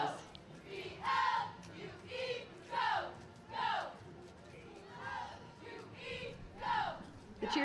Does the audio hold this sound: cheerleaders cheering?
yes